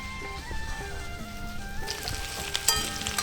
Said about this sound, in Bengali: এখানে আমার ভাজা হয়ে গেল সমস্ত সবজিগুলো একটু হালকা ভাজা হয়ে গেছে